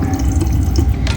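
Tap water runs steadily into a bottle at a doll-restoration sink, a dense, loud, continuous rush and gurgle that lasts the whole short stretch, with no voices.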